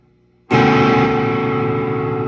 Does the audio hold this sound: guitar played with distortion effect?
yes